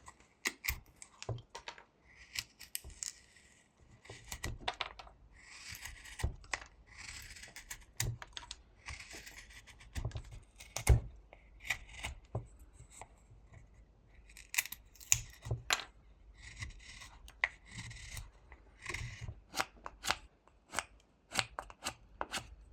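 A knife whittles a small wooden crow, making quick, irregular clicks and scraping cuts, close and fairly quiet, with short pauses between strokes.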